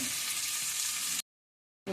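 Tomato, tamarind, salt, chili powder and asafoetida sizzle in hot oil in a pan for tomato chutney, a steady loud fry that stops abruptly and then resumes.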